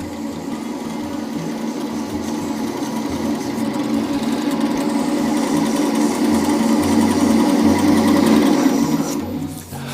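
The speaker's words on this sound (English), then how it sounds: "So we're just going to sand it until we get rid of all that" African Zebrano pen blanks sanded while spinning on a woodturning lathe, a loud, steady, close whirring hum with a fine rasping texture that holds evenly for several seconds before cutting off abruptly at the end.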